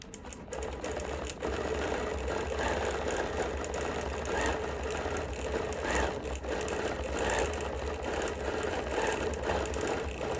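Bernina sewing machine fitted with a micro stippling foot, stitching a quilted bunny motif: a continuous, even mechanical whirr and rapid needle patter that is moderately quiet and runs without pause.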